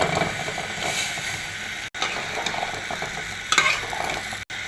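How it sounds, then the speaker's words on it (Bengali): Papaya sautéed and stirred in a pan for a curry, a steady broadband sizzle running throughout with scraping stirs and a brief spatula clatter near the end, close and fairly loud, no talking. "পেঁপে কষাচ্ছি, পেঁপে ভেজে দিল"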